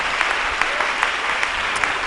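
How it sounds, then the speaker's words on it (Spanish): Dense applause from a church congregation fills the space with a steady, bright patter of many hands, continuous and fairly close. "Si quiere darle el aplauso"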